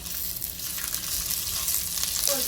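Ingredients for North Karnataka karchikayi palya fry in a spoonful of oil, giving a soft, continuous sizzle and crackle at close range with no talking.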